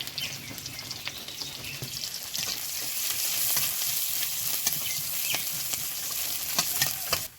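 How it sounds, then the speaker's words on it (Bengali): Onion, green chili and cumin fry in mustard oil in a wok, giving a steady close sizzle with scattered stirring clicks and spatters throughout. "পেঁয়াজটা হালকা একটু আমি ভেজে নিয়েছি"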